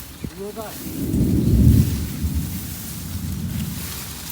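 Thunder rumbles low and heavy over steady rain beside a water-filled ditch in Sri Lanka, swelling to a peak midway and then fading into the continuing patter, with a brief voice near the start.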